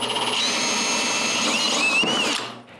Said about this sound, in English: I can now drill a bigger hole and move the insert nut